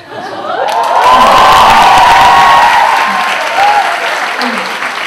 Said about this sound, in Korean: 여러분 이 박수 소리를 주님이 기억하십니다.